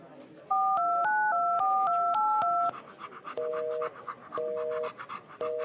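A telephone number is keyed in as a quick run of paired touch-tone beeps, then ringback tones repeat at even intervals. A dog pants heavily and close throughout.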